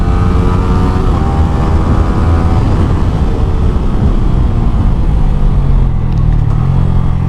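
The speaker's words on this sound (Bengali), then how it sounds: "এটাতে যে এক্সস্ট লাগানো আছে এটা হচ্ছে R1M রেপ্লিকাটা" A motorcycle fitted with an R1M replica exhaust roars loudly and steadily close by, its deep engine note rising and falling slightly as it pulls under heavy wind noise.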